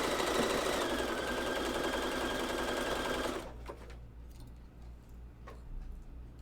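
Sewing machine zigzag stitching stretchy underwear fabric, a loud rapid mechanical whirring chatter that stops abruptly partway through, leaving quiet room sound with a few faint clicks.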